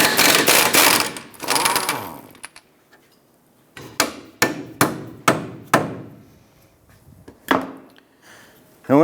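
An 18mm socket works loose the lower shock bolt nut on a 2008-2013 Nissan Rogue, giving a burst of rapid metallic rattling followed by a run of sharp, loud clanks spaced about half a second apart, then a few scattered knocks.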